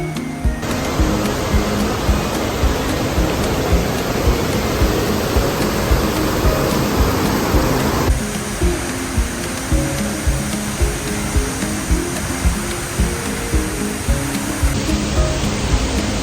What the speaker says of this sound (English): the waterfall that's feeding it up there